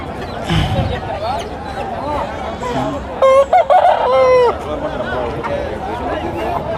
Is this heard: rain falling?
no